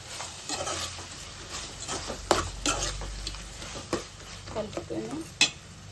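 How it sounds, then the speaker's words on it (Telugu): Fried dried fish being stirred into gongura curry in a pan, with steady scraping and clinking of a spoon against metal over a soft sizzle, close and fairly quiet, no talking. "ఇప్పుడు మనం వేపుకున్న మెత్తలు ఇందులో వేసి కలుపుకుందాం."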